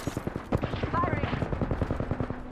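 Rapid automatic gunfire in a video game, a fast regular string of close, punchy shots running nearly the whole time, with a voice speaking over it.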